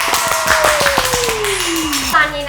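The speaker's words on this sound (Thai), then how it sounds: "ขอเสียงปรบมือให้กับชีสเค้กทุกเรียน" A few people clap for a durian cheesecake from the Bangkok shop Evan Factory during a food review: quick, close hand claps mixed with a voice and a rising-and-falling tone.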